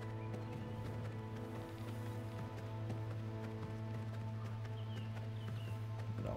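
Hoofbeats from a horse in the V Rising game clop steadily under a constant tonal hum of game music and ambience. They run continuously at a moderate level, with no voices.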